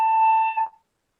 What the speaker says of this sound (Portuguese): O telefone, lá, o som do telefone